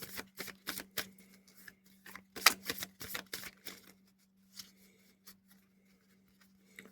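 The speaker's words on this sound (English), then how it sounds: "I love the way these cards shuffle." Magic of Marvel card deck being shuffled close up, a quick run of crisp riffling snaps in clusters, then softer scattered card taps fading out over a faint steady hum.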